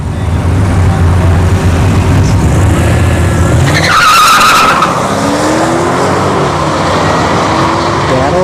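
At a drag strip, a Jaguar and a Mercedes CLK 550 launch, with a loud engine roar that gives way to a burst of tire squeal and then fading engine noise.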